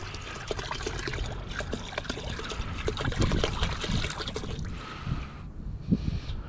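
Liquid trailer strap deicer solution poured into a storage container, a steady close trickle and splash running several seconds before tapering into a few brief dribbles.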